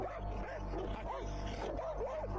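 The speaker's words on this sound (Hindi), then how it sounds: "और एक कुत्ता भाई चुप ही नहीं हो रहा" Barking and yelping from a dog that keeps going and won't quiet down, with repeated sharp calls over a steady low hum and a person's voice nearby.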